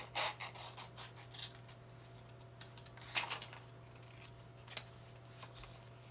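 Scissors trim a paper junk-mail envelope in quiet, close snips. A quick run of cuts comes at the start, then a few scattered clips around the middle, with no speech.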